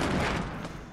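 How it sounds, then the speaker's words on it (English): Gunfire striking the player in a Fortnite Battle Royale match, a dense, loud burst of shots and impacts filling the whole second without pause, slowly easing toward the end. "I just got shot from a different angle, from someone else."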